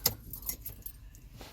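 Keys jangle and clink up close as a car key goes into the ignition of a Ford Ranger, a short burst of light metallic rattling.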